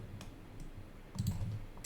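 A mouse click on the save button in a web app: a few short, quiet clicks over faint room noise, with a slightly firmer click cluster near the end.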